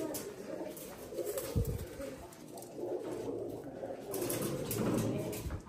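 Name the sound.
pigeons cooing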